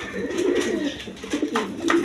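A yellow hen pigeon and others in a coop give soft, repeated throaty coos close by, several rolling calls over a couple of seconds with no talking.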